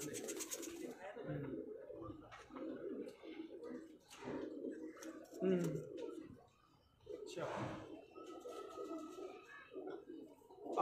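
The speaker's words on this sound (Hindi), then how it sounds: "बहुत अच्छे कबूतर हैं, बड़े ज़बरदस्त कबूतर हैं" Soft pigeon coos and bird calls sound close by from a pigeon fancier's birds in Multan, overlapping with people talking throughout.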